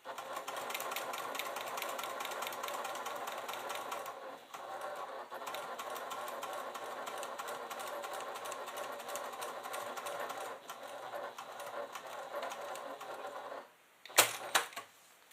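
Sewing machine stitching a seam along a quilted leather clutch with black thread, running in a steady, fast continuous whir for most of the stretch, with a short pause near the end and a sharp clack after it.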